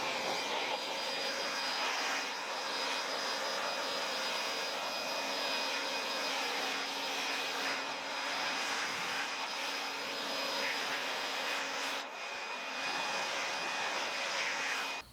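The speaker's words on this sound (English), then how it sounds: "It's a cheap Craftsman blower with a nice tip at the end that allows the airflow" Cheap Craftsman leaf blower with a concentrating nozzle tip drying a car outdoors, a steady loud whooshing roar with a high motor whine that runs unbroken throughout, close by.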